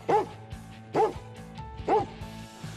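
A search and rescue dog at earthquake rubble in Türkiye barks three times, loud and close, at an even pace about a second apart. Faint background noise fills the gaps between barks.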